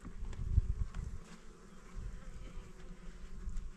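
Honey bees hum steadily inside a hive on a small Montana cattle farm, a close, continuous low drone with brief louder swells, alone and without talk.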